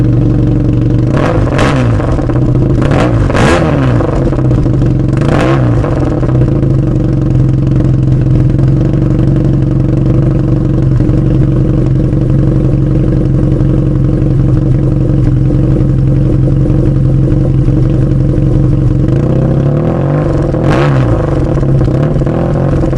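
A BMW R nineT cafe racer motorcycle engine idles loudly through its exhaust and is revved in several sharp bursts, settling back to a rumbling idle between them.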